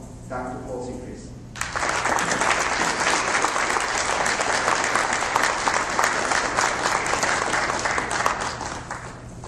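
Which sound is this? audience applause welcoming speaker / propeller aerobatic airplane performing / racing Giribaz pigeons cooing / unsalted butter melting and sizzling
audience applause welcoming speaker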